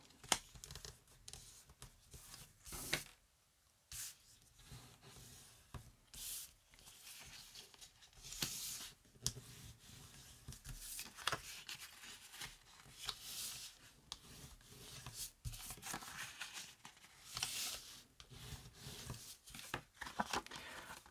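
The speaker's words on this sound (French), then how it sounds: "On va former les plis." Paper being folded and creased by hand to make a window pouch, with repeated rubbing, scraping and crinkling strokes over about twenty seconds, close and fairly loud, with short pauses between passes.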